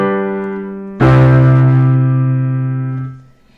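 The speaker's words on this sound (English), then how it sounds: "a cadence would sound something like this" A piano plays a I-V-I major cadence: one held chord moves into a louder, fuller chord that rings on and slowly fades, giving a final, settled close.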